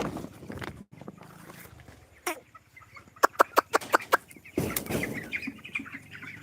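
Adult hens cluck close by in a quick run of sharp, repeated clucks, with softer murmuring calls and some rustling around them.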